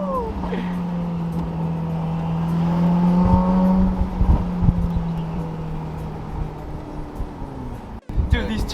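Ferrari F8 with a full Boden exhaust system and twin turbos accelerating, a droning engine tone with rising whine as the revs climb, heard from inside the cabin while people talk over it.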